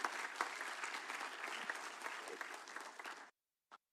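A crowd at a city council meeting claps for about three seconds in dense, steady applause, then it stops abruptly, followed by one last stray clap.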